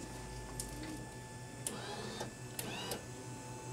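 A C Series M2 DTG printer loads its platen, giving off a low, steady mechanical hum broken by several short rising motor whines and clicks, fairly quiet and with no voices.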